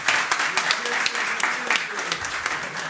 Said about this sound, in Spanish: este aplauso que sea también para todos nuestros expositores